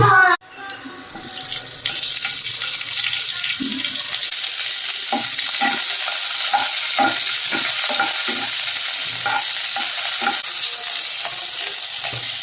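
Cumin seeds hit hot oil for a fasting-style potato bhaji, giving a loud, steady sizzle that bursts in suddenly and then holds, with faint clinks of stirring running through it.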